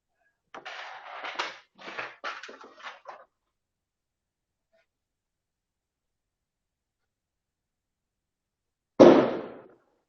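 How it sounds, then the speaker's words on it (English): Fireworks crackle outside on the Fourth of July, a cluster of sharp pops and bursts over a few seconds, then silence before one louder boom with a fading tail. "they're totally throwing off some fireworks out here"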